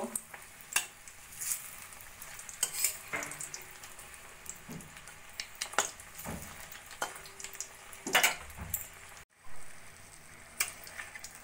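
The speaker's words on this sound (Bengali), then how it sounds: "এই মিনি রোলগুলোরও একটা পিঠ ভাজা হয়ে গেছে। আস্তে করে আমি উল্টে দেব।" Mini rolls fry in a pan for a homemade healthy breakfast, a soft, quiet sizzle broken by scattered clicks and scrapes as the rolls are turned over.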